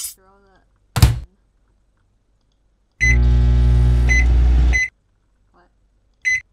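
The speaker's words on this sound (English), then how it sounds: "Let's get the microwave." A microwave oven in the cooking game Cooking Simulator hums loudly for about two seconds, a steady buzzing drone marked by short beeps, with a door-like thunk before it and another beep afterward, surrounded by near silence.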